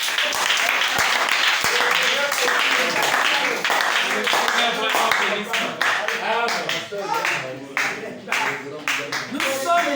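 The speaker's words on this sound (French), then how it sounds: "acclamez très fort" Church congregation clapping and cheering loudly during a worship service, a dense sustained wave of applause with shouts and voices mixed in throughout.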